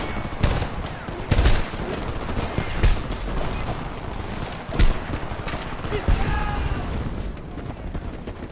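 Gunfire in the video game Homefront: bursts and single shots crack repeatedly through a dense battle din, with soldiers shouting over the constant shooting.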